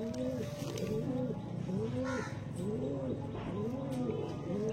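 Several Andhra pigeons coo close by in a repeated rolling rhythm, soft throaty calls over a low background murmur.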